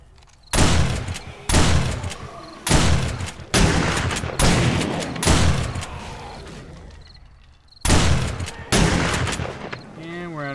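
Shotgun blasts in the PC survival game 7 Days To Die during a city horde fight: seven heavy, booming shots spaced about a second apart, each with a decaying tail, then a pause before a final blast.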